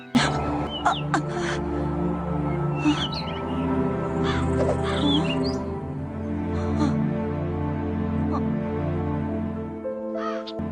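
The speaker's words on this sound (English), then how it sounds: "What are those crows doing here?" Several crows caw repeatedly, fairly loud and close, over a dense, continuous background hum.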